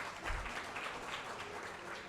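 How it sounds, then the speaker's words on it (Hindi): A small audience at an open mic stage event gives a faint, brief burst of scattered applause that stays thin and distant throughout. "जोरदार तालियां कागज के लिए"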